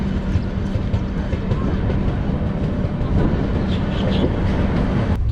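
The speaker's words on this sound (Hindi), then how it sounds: "अब हम निकल रहे हैं कृष्णराजपुरम रेलवे स्टेशन और हमारा सफ़र शुरू हो चला है" Sanghamitra Express pulling out of Krishnarajapuram railway station, heard from inside a 2 AC coach: a steady loud rumble of the moving train with faint rail clatter and a sharp click near the end.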